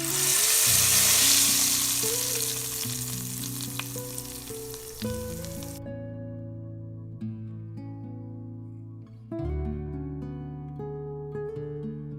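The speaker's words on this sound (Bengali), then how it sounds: "একটি পাত্রে সরিষার তেল গরম করে তার মধ্যে শুকনো লঙ্কার জিরে ফোড়ন দেবেন দিয়ে ম্যারিনেট করা চিংড়ি মাছগুলোকে আস্তে আস্তে ভালো করে ভেজে নেবেন" Marinated prawns frying in hot mustard oil with dried red chilli and cumin give a loud, hissing sizzle under sustained background music, and the sizzle cuts off about halfway through while the music continues.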